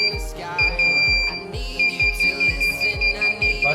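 Arduino parking sensor buzzer sounding a fast, steady run of short beeps as an object sits close to the sensor, about two per second, loud and near with no talk.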